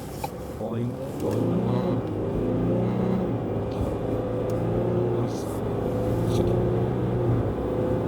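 A 2025 Ford Ranger pickup accelerating on a dual carriageway, a steady low engine drone and road rumble heard from inside the cab, with a person talking over it.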